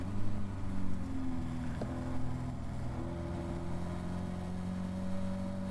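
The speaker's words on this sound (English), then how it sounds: "the engine bouncing off the rev limiter" A Caterham Academy race car engine bouncing off the rev limiter during a circuit race, a steady buzzing drone held at high revs with a faint stuttering wobble, heard from inside the car.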